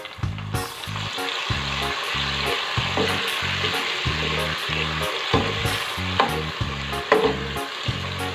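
Tomatoes and green chilies fry for eggplant bharta, a loud continuous sizzle and crackle over a rhythmic low pulsing thump that repeats throughout, with occasional stirring clinks.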